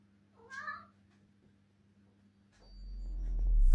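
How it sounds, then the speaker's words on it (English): A cat gives a single short meow indoors, fairly close, followed by quiet and then a rising low rumble of handling noise toward the end. "My cat just keeps walking around meowing"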